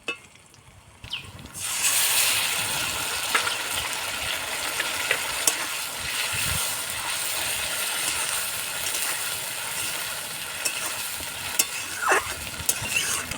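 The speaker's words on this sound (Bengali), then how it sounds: "পেঁয়াজ ভাজা হয়ে গেছে, এর মধ্যে এবার বাটা মশলাগুলো দিয়ে দেবো।" Ground spice paste added to fried onions in hot oil for a Bengali rui fish curry: a sudden loud burst of sizzling after a second of near quiet, then a steady, close, hissing fry with occasional stirring knocks.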